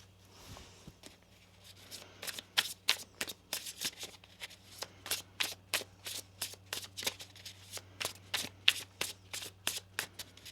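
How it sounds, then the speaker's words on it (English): Tarot cards are shuffled repeatedly up close, a rapid series of crisp riffling bursts with short pauses between them. "One more shuffle here."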